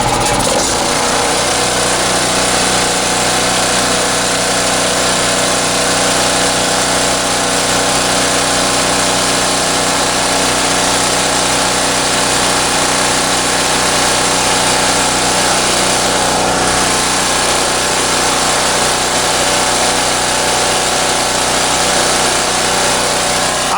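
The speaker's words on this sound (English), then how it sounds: "Let me flip it to choke and give it a crank." A small gas engine, choked and pull-cranked, runs loud and close with a steady, buzzing high-pitched drone. It keeps going without a break for the whole stretch, with no talking over it.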